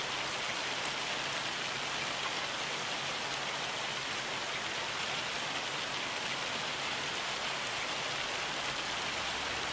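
Steady rainfall in the farming game Farming Simulator 25, a constant even hiss of drops pattering on surfaces, with no voices over it.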